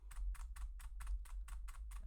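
Typing on a Silvercrest mechanical keyboard with blue switches produces eight sharp, evenly spaced clicky keystrokes, close and crisp over a low constant hum.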